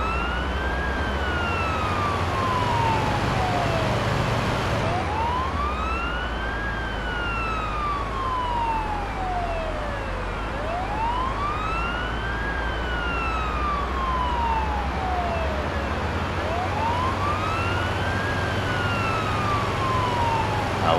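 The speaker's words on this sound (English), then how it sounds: "I wish we could shut off the siren and just leave the lights for these highway times." An ambulance siren in the video game Ambulance Life wails in slow rising and falling sweeps over steady engine and road rumble, loud and continuous throughout with no talking.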